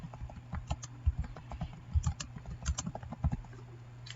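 Steady typing on a computer keyboard, with irregular bursts of close, light key taps and a few heavier strokes, while text is entered in all caps in drafting software.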